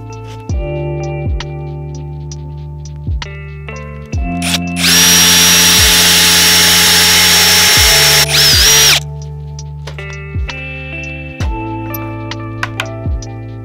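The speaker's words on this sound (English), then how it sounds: "You're going to drill on one side of the block first" A power drill whirs steadily while boring into a wooden block, with a louder, rougher grinding burst in the middle and repeated clicks and knocks around it.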